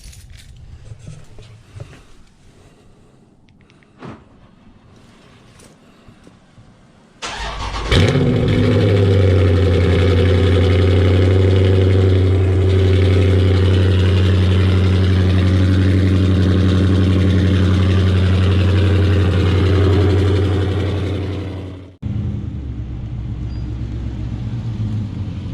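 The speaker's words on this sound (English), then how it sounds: "let's get that cold start going on" A 2016 Dodge Charger Scat Pack fires up from cold after a quiet stretch of faint noise, its engine settling into a loud, steady, deep idle with strong low rumble, then the revs drop sharply near the end before a softer idle continues.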